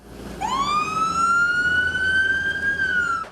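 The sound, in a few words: fire truck siren in memorial procession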